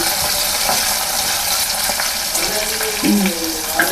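Tempering frying in a pan for pappu charu, a steady close sizzle with crackling oil and a stirring scrape, continuous and fairly loud, with faint background sounds.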